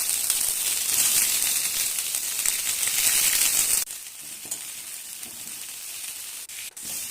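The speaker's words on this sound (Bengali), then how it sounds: "প্রথমে কড়াই তেল দিয়ে আলুগুলো ছেড়ে দিলাম।" Potatoes dropped into oil in a wok give a loud, dense sizzle for several seconds, then the hiss abruptly drops to a quieter, softer frying with a few small clatters, no voices.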